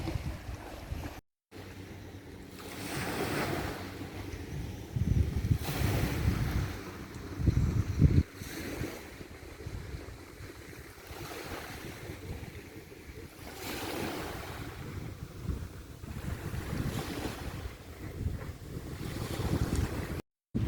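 Waves wash onto a beach in Greece with gusting wind buffeting the microphone, the surf swelling and receding in repeated surges, no voices.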